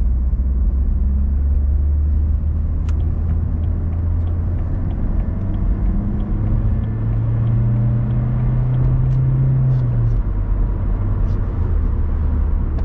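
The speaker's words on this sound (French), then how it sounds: "Alors ça accélère dans une progressivité totale." A 2000 Peugeot 406 2.0 HDi 110 diesel hums steadily and rises gradually in pitch, accelerating smoothly from inside the cabin with a constant low rumble.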